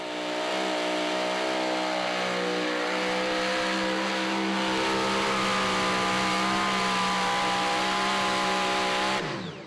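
Mini rod pulling machine at a charity tractor pull in Hillsboro, Wisconsin, its engine screaming at high revs in a long sustained run, loud and close, before cutting off abruptly near the end.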